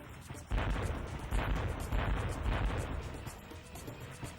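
A fire turret in a PS1 video game fires in a series of rough, booming bursts that roll on continuously for several seconds at moderate loudness.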